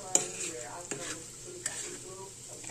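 Dried anchovies (dilis) fry in a pan with a steady, quiet sizzle, and a few sharp stirring clinks sit on top of it.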